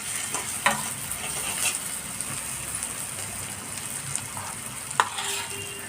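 Onions stirred and frying in oil with red chili powder, a steady soft sizzle with a few spoon scrapes against the pan, close and alone with no talking.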